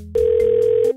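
A single steady electronic telephone tone, loud and even, sounds for just under a second in a car repair shop setting, starting and stopping abruptly.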